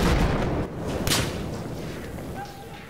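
Grenade explosions in the Battlefield video game: a loud, heavy boom rolls in at the start, then a second sharp blast follows about a second later and fades into a rumbling tail.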